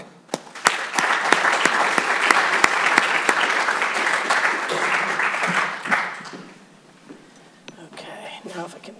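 Seminar audience applauding to welcome Professor Kimberly Prather at UC San Diego, a sustained burst of clapping for about six seconds with sharp claps at the start, then fading into scattered claps and quiet murmuring.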